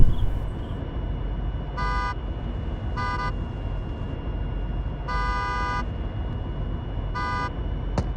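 A Tesla drives along in a video game with a steady engine and road drone, interrupted by four short horn honks spaced a second or two apart.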